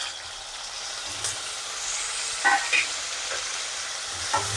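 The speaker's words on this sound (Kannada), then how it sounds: "so tomato ಹಾಕೋತಿದ್ದೀನಿ" Tomatoes fry with onion, ginger and garlic in a pan, a continuous close hissing sizzle with occasional soft stirring knocks and scrapes, no talking.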